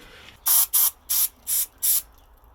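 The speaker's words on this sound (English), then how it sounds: "Just spray brake cleaner in there" Five short, sharp bursts of brake cleaner spray hiss in a quick, even rhythm, close and loud against a quiet background.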